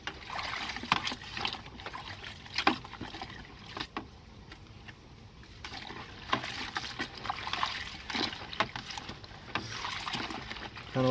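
Seat belt webbing from a WJ Jeep Grand Cherokee agitated by hand in a tub of detergent water, giving uneven splashes and sloshing with trickling between strokes, close by and moderately loud, with no talk.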